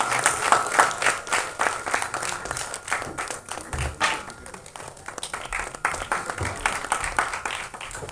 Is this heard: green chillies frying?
no